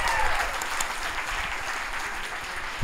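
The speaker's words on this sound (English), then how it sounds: "let's give ourselves a round of applause." Audience applause from a live-streamed session, a dense, steady wash of clapping lasting the whole few seconds at even loudness.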